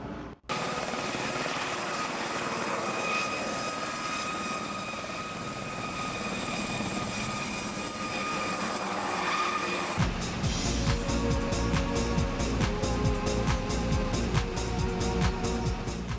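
A helicopter lifting off over crop circles on an ancient landscape produces a loud, sustained rotor and engine drone that shifts partway through into a heavier, rapidly pulsing beat, with no talk.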